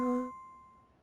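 A two-tone school chime from the video game Pokémon Violet sounds once before a public-address announcement, bright tones ringing briefly and then decaying into quiet.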